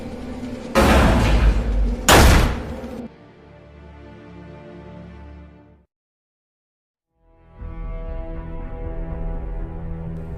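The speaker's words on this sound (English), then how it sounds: "the blast doors then immediately slamming shut with a heavy," Heavy metal blast doors slam shut twice in quick succession with loud, booming clangs, followed by a low lingering rumble that drops to silence before a steady hum returns.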